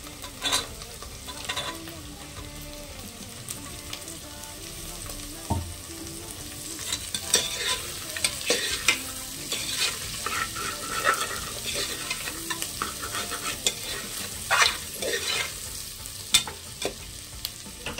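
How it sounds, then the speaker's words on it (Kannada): Onion, carrots and beans sizzle steadily in a pan for mint rice, with a utensil scraping and clinking as the vegetables are stirred throughout. "ಒಂದು 2 ನಿಮಿಷ ಫ್ರೈ ಆಗಲಿ, ಫ್ರೈ ಮಾಡ್ಕೋಬೇಕು."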